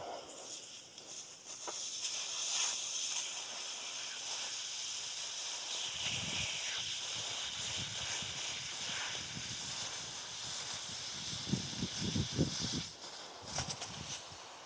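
A 1200 watt laser burning into a wooden 2x4 gives a steady, close hiss, with crackling, popping bursts of scorching wood growing denser in the second half.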